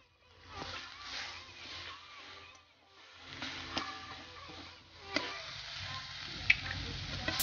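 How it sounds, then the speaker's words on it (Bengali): Mustard or leafy greens dropped into a frying pan with browned garlic in oil, giving a steady close sizzle with stirring clatter and a few sharp clicks from utensils. "রসুনটা পুড়ে গেছে, এর মধ্যে শাকগুলো এবার দিয়ে দেওয়া হবে।"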